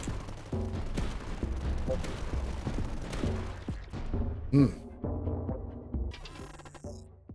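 Light mortar fire from the tower-defense strategy game Tower Dominion thumps in dense, overlapping bursts, mixed with other in-game gunfire and effects at a steady loud level.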